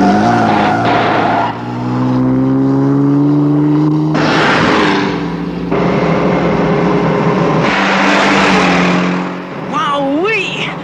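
Car engine revving hard with a supercharger engaged, a loud, close whine climbing in pitch through several gear-like surges, with tire squeal and a brief cut near the end.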